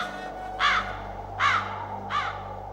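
Three loud, close crow caws come at roughly even intervals over a steady low background hum, with no talk.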